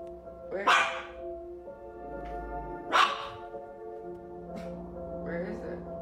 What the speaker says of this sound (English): the dog is barking at a ghost